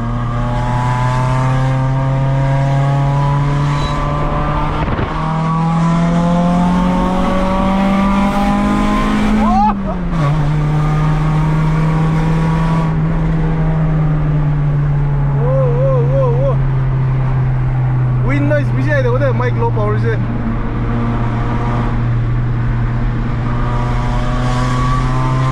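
A heavily modified 2006 Toyota Corolla drives along in third gear, its engine droning loud and steady with slowly shifting pitch and a brief dip as revs change, recorded from inside the car with occasional voices.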